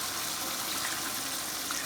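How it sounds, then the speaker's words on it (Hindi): Water is poured into a pot of chicken and potato curry, a steady, faint gushing splash that continues evenly for a couple of seconds with no talking. "अब इसके अंदर डाल देते हैं पानी।"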